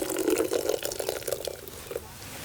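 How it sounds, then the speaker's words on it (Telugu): Soaked puffed rice squeezed by hand to press out the water, a run of close, wet splashy squelches and drips that thins out toward the end, with no voices. "ఇప్పుడు వీటిని నీళ్ళల్లో తీసి ఇలా నీళ్లు లేకుండా మెత్తగా పిండేసి"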